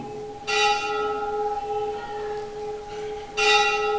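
A bell strikes twice, a resonant clang with a long sustained hum between strikes, the second stroke arriving about three seconds after the first.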